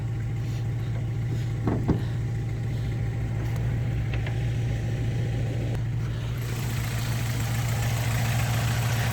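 A Volkswagen Golf 3 engine idling steadily with an even low hum and faint mechanical ticking, close by and constant, with no one speaking.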